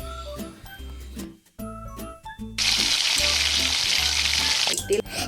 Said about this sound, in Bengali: কড়াটা গরম হয়ে গেছে।